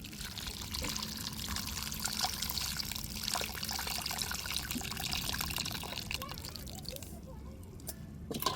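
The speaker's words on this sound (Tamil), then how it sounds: "இப்போ கரைச்சி வச்ச புளியே எடுத்துக்கிடுவோம்" Dissolved tamarind water pouring into a dried rock-fish curry, a soft continuous trickle and splash running steadily for several seconds at moderate distance, with faint background noise.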